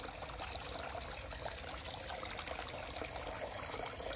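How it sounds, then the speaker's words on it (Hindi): Water from a small waterfall pours continuously into a garden fish pond with a bio filter, a steady rushing splash filling the whole stretch, faint and even, with no voices. "तो जैसे ही झरने का पानी गिरना शुरू हुआ है"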